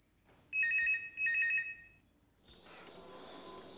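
A mobile phone ringtone plays two quick runs of bright, repeated electronic beeps, then stops, leaving a steady faint hiss in an indoor room.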